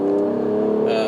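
Mercedes-AMG E53 engine on a winding mountain road in Mae Hong Son, a brief close, steady rising drone.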